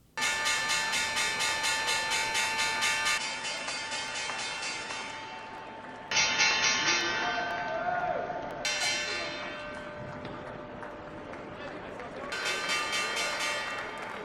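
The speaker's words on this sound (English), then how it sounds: "you'll be next in line to ring that bell." A stock exchange closing bell rings loudly and continuously for about fourteen seconds, its bright metallic tone shifting in several stretches.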